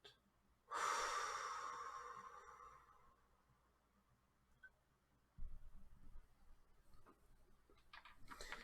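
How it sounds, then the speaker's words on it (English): A person takes a long, audible exhale, an airy rushing breath that starts abruptly and fades over a couple of seconds, close to the microphone, followed by quiet room noise and faint shuffling. "Breathe out."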